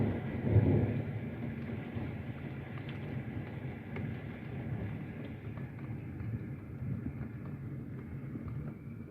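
Thunder rolls during a severe thunderstorm with heavy rain and marble-sized hail, swelling into a low rumble near the start and then fading into a steady wash of rainfall.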